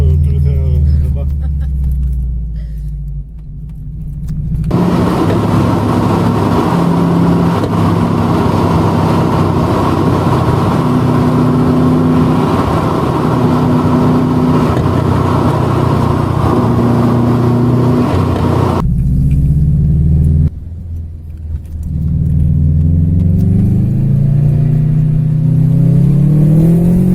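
A Subaru GT 96 rally car engine revs and roars loudly and continuously for about fifteen seconds, with a steady mid-pitched drone, then drops off briefly before rumbling again, with people talking over it at the start and end.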